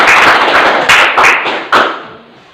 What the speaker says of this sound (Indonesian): Kasih tepuk ya.